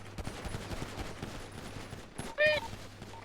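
Gunfire from a role-play video game comes as a rapid burst of shots followed by a sharp louder report near the end, with a voice partly underneath.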